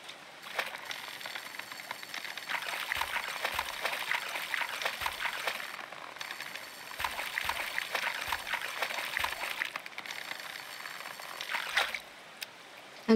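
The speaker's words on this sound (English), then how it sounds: "This waterfall is so pretty." Waterfall flowing in the video game Coral Island: a steady, soft rushing and trickling of water that continues throughout at fairly low volume, with small dips in level and no talk.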